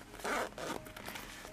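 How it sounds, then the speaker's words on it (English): Zipper closing on a pencil case: a quick close zip, a short pause, then a second shorter pull, crisp and quiet with no talk. "So you close the zip,"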